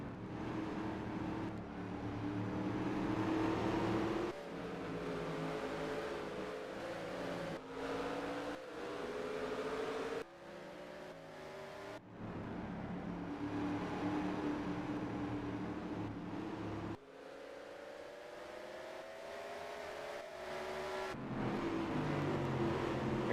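NASCAR Racing 2003 stock cars racing at Brands Hatch, a full field of 42 AI cars, engines droning and shifting in sweeping waves as cars pass by, with abrupt cuts between close, loud passes and quieter stretches.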